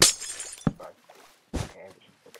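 Glass blocks shattering in Minecraft Skygrid, with several sharp, close breaking crashes separated by short gaps and mixed with brief voices.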